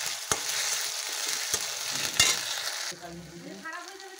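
Onion paste and tomato sauté in a hot pan with a continuous bright sizzle, broken by a few sharp spoon scrapes and stirring knocks, then the frying quietens as the mixture is turned.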